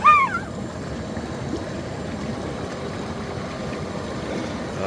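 An air blower pushes water into a turbulent bubbling churn inside a DIY IBC-container hot tub, a loud continuous rushing, with a brief high-pitched voice near the start.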